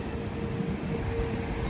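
A train in Scotland gives off a steady, close rumble with a faint sustained hum riding over it, even and unbroken throughout.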